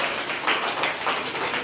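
A group of young schoolchildren in a classroom claps their hands together, a quick run of soft, rhythmic clapping bursts close by.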